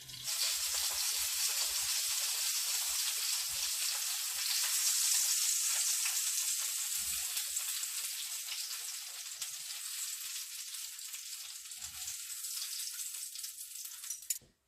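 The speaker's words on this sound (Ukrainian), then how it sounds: "А так я посмажу всі" Pounded meat chops frying in a pan, a loud, continuous bright sizzle heard close up, with occasional faint low knocks beneath it, fading out at the end.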